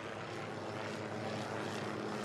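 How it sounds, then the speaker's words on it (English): Military helicopters flying overhead in Afghanistan: a continuous, even roar of rotor and engine noise that fills the whole stretch, fairly distant and steady, no voices. "There are some military choppers flying above us right now."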